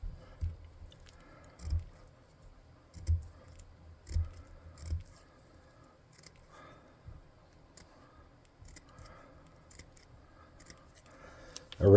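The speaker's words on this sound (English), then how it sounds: "I'm going to cut a couple little pieces." Small snips cut scrap-metal bits for a size-small tabletop miniature, giving a handful of soft, close clicks and crunches in an irregular rhythm, with a louder knock at the very end.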